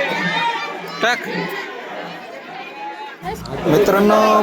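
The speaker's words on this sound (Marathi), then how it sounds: "मित्रांनो, बघू शकता किती गर्दी आहे." A busy crowd of devotees at Jejuri temple on a Saturday, steady close chatter and mixed voices with a few louder shouts, while someone talks nearby.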